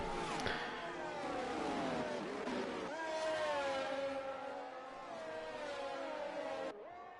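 Race cars in the Las Vegas GP of a racing video game roar loud and close, their engines holding steady high revving tones with shifting pitch, continuous throughout with a brief dip near the end.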